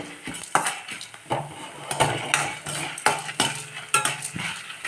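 Lentils and spices dry-roast in a pan while a metal spoon stirs and scrapes them in quick, clattering strokes over a faint crackle, close and moderately loud.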